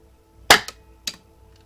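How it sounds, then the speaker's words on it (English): A single sharp BB pistol shot cracks out nearby, followed by a short rattling echo and a second fainter snap a half-second later. "so I'm just gonna shoot at it"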